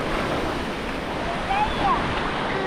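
Strong ocean waves at a Palawan beach, a continuous loud wash of surf and wind noise, with people talking over it.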